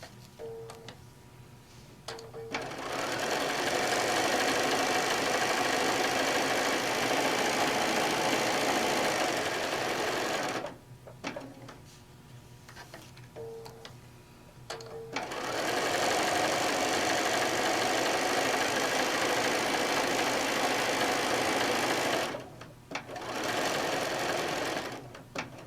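A sewing machine runs in long steady bursts while stitching around the edge of a fabric bag, pausing briefly between seams, loud and close with no talking.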